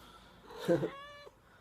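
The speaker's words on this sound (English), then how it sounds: "this is my deaf cat, and he's pretty loud" A deaf cat lets out one loud, drawn-out meow that rises and then falls away, close and alone in a quiet room.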